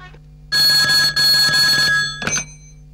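A telephone bell rings loudly in two long electronic trills, followed by a short third burst, close and alone with no talk over it.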